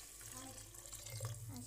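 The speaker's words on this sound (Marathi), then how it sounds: "यानंतर आपण ह्याच्यात पाणी टाकून घेऊया" Water pours into a pan of frying masala with a faint, steady rush and bubbling, quiet and continuous.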